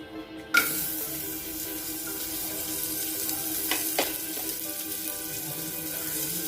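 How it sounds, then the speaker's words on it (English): Spices fry in a spoonful of oil in a pan, giving off a steady, close sizzle with a few small pops and the scrape of stirring. "Now in the same pan, I'm just adding a spoon of oil. And except coconut, all the items will just fry."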